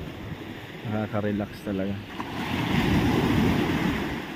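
Sea waves wash onto the shore in a steady, close surf roar mixed with some wind, rising after a woman's brief spoken words at the start.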